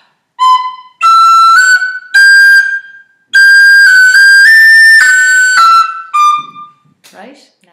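A tin whistle plays the B part of an Irish jig, the Killavil Jig, first in short tongued notes with gaps, then a longer slurred run; bright, clear, close and solo.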